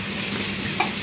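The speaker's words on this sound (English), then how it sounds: "So keep stirring" Onions sizzle steadily in a pan over high heat while being stirred, a close continuous frying hiss with one light clink of the utensil near the end.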